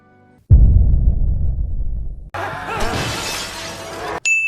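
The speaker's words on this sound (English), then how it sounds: "So, some broken glass during Armageddon?" Glass shatters as a movie sound effect in a SpongeBob film, a loud crashing burst that spills into a tinkling, scattering spray of shards, followed by an abrupt cut to another bright sound at the end.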